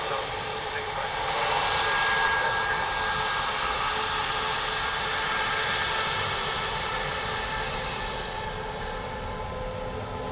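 Jet airliner engines roar at Dublin Airport, a steady broadband rumble that swells slightly and then holds at a near, loud level, with faint talk underneath.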